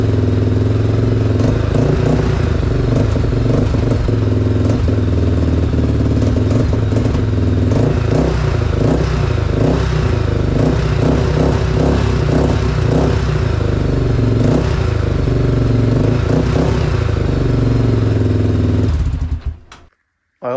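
A Honda 400ex ATV engine idles and runs after carburetor tuning, a loud, steady mechanical drone with rhythmic clatter and slight revving, close by, before it cuts off abruptly near the end.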